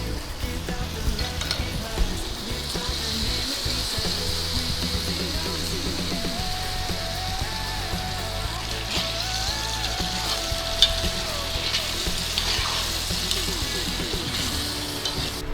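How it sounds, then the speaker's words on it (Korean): Sausages and onion stir-fry in a pan with tomato sauce, a steady loud sizzle running throughout with soft scraping stirs and a faint whistling tone midway. "다음 소세지를 넣어줍니다 자잘 볶다가 토마토 소스 하나 다 부어줄게요"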